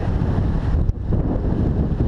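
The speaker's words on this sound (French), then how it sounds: "y a beaucoup de vent maintenant." Steady wind buffeting the microphone beside a river at dusk, a loud low rumble that drops out briefly once before resuming, with no voices.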